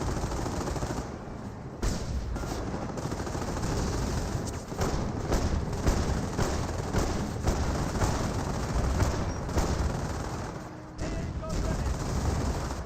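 Battle in Company of Heroes as Panther tanks fire on a Bofors emplacement: dense rolling gunfire and heavy impacts, continuous and fairly distant, with talk running over the din.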